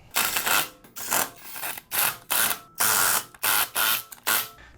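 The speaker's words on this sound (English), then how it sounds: "We're just gonna put all the lug nuts on, snug it up." A hand ratchet snugs lug nuts onto a Toyota 4Runner wheel during a tire rotation, sounding as about nine close, loud bursts of fast clicking, each short and separated by brief gaps, with no talking.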